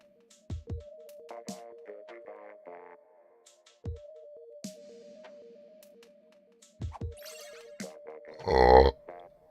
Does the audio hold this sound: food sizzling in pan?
no